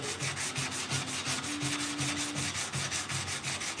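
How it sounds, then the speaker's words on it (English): Sandpaper of 180 grit rubbing over a 1968 C10 grill shell in steady back-and-forth strokes, a close rhythmic rasp repeating about every quarter second. "I'm sanding this grill shell with 180 grit."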